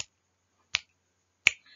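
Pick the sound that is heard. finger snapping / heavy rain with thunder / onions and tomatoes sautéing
finger snapping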